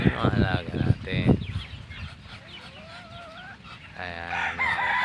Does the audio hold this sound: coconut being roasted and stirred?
no